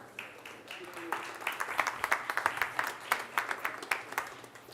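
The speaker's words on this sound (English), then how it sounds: "An applause for them as well." Conference audience in a plenary session applauding, a modest round of scattered hand claps at moderate distance building briefly and then thinning out.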